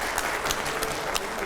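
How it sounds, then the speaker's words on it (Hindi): A brief burst of applause from a TV studio audience during a political interview, steady clapping filling the moment at moderate loudness. "तालियां हो जाए जोरदार"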